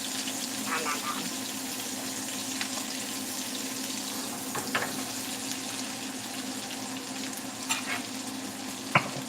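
About four big jalapenos fry in bacon grease in a pan, giving a continuous crackling sizzle with occasional sharper pops and clicks, close and fairly loud.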